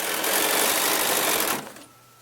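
A sewing machine runs fast and steady while free-motion quilting, a dense continuous whir that holds for about a second and a half, then cuts out abruptly and leaves quiet.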